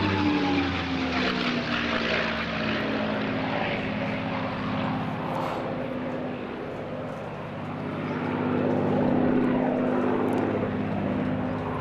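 A P-51D Mustang warbird with a Rolls-Royce-built engine flying a display in the summer sky, its propeller engine a steady loud drone that swells and shifts pitch as it passes overhead, with faint talk beneath.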